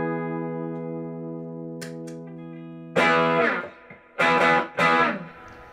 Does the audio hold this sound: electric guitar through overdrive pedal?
yes